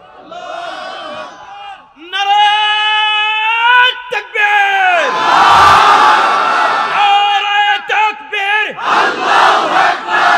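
A large crowd chants the takbir in unison in answer to a preacher: loud, sustained rising shouts from many voices, repeated in waves of collective cries that swell and fall.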